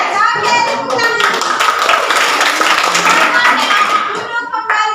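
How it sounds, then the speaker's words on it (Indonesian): A classroom of children clapping their hands together, a dense, loud burst of overlapping claps that fills the room, with kids' voices mixed in. "Oke, tepuk tangan."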